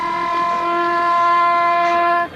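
A train in a 1990 Tamil film blares a long, steady multi-tone horn close by, loud and continuous for a couple of seconds before cutting off, with rumbling underneath.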